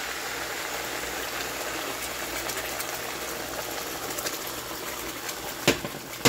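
A mixed sauce goes into a hot pan that already holds cooked potatoes and eggs, giving a steady close sizzle and bubbling hiss with a couple of sharp pops near the end and no talking.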